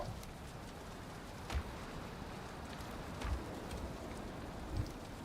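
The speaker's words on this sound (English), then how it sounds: "And it's raining." Steady, light rain in a video game patters continuously, with a few faint low thumps now and then.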